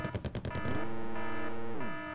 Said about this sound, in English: it was that important to do a cannon run on the tanks there